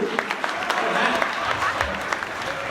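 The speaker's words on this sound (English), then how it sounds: "we got to give Simone a round of applause just for the trail alone" Applause at the 2019 GCA awards ceremony for award winner Simone Dowdy, a steady crowd patter of clapping with voices mixed in underneath.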